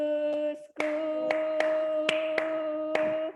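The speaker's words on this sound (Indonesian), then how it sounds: "Tepuk 2 kali, tepuk 3 kali, hentak kaki. Kalau kau suka hati tepuk tangan." Hand claps keep time to a children's action song at a kindergarten home activity, about six sharp evenly spaced claps over a steady sung melody, after a brief pause.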